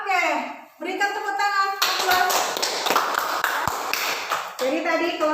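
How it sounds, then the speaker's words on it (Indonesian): A classroom group of children and teacher claps hands together in a dense burst of about three seconds, set between stretches of an adult speaking before and after. "berikan tepuk tangan"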